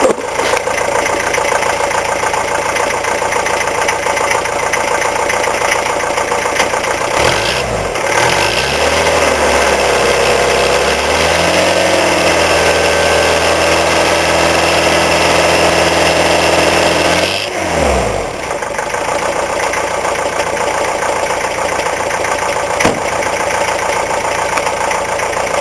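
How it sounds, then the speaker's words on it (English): Diesel engine of a 1972 Mercedes six-door limousine idling steadily, then revved for about ten seconds with rising and falling pitch before settling back to a loud, close idle; no talking. "And I'll go ahead and rev it up for you."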